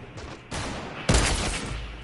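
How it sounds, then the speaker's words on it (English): Bursts of gunfire in a video game: a sharp crack and then a louder, denser volley of shots, close and harsh, with no talk over them. "No, someone sniped me!"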